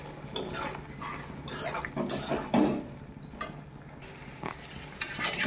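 Fried spices are stirred into an elephant apple pickle with a spoon, producing repeated scraping and clinking against a metal pan in irregular bursts, close and moderately quiet.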